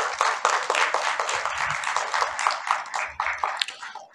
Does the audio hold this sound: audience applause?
yes